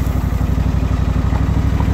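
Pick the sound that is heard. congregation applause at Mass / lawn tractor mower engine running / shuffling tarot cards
lawn tractor mower engine running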